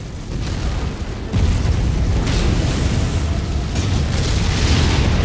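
A missile explosion in MechWarrior 5 booms loud and close, opening with a rumble that swells into a sustained, heavy roar of blasts.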